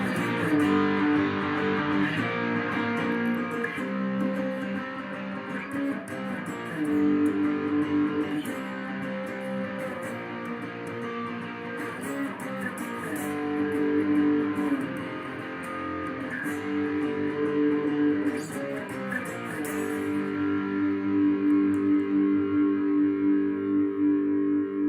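A Fender Meteora HH electric guitar fitted with TV Jones Classic and Plus pickups plays sustained chords and riffs with no talk, ringing full and steady before settling into a long held tone.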